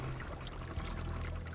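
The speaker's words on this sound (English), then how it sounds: "this draws water up from the bottom through the screw and out through the other side" Water pours out of a wind-turned Archimedes screw that lifts it from below, a continuous dense rushing splash, close and steady, with no pauses.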